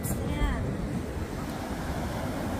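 Atlantic Ocean surf washing onto a beach, a continuous rushing wash of waves with heavy wind buffeting the microphone and a faint voice in the background.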